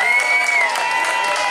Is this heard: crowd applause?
yes